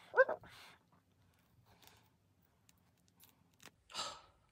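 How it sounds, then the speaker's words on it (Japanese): Blunt scissors struggle to cut through a bandage, making a few quiet, scraping snips with long silent gaps between them. A faint breath or voice sound is also present. "すんごい切れないの、このハサミ。"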